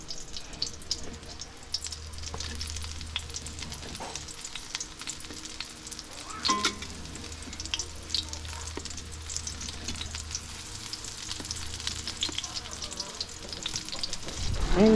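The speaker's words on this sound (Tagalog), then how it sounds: "Prito na siya na." Steady sizzling of eggplant frying in oil runs throughout, with occasional clinks and scrapes, a low hum underneath, and no talking.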